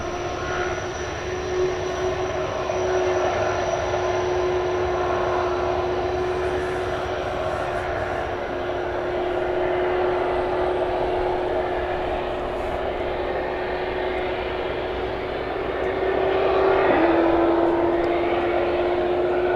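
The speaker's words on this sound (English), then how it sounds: "the UPS A300 going out now to Ontario, California." A UPS Airbus A300 cargo jet taking off at night from DFW Airport, a loud sustained jet roar with a steady high engine whine that shifts pitch late on, no voices.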